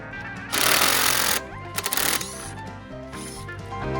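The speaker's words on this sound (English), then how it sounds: "So I grabbed my impact driver with the Allen wrench attachment, and let's see if that will work." Impact driver fitted with an Allen wrench bit hammering a bolt: two loud, close bursts of rapid rattling impacts with a short pause between, then quieter handling noise.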